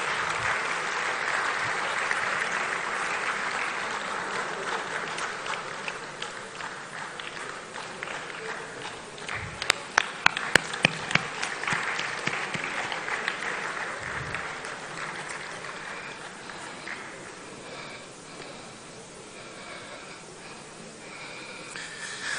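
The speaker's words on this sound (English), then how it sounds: "Please, shall we accompany him to his seat with a round of applause?" A hall audience at a tenth-anniversary commemorative lecture applauds for a long stretch, steady moderate clapping with a few louder close claps partway through, then slowly thinning.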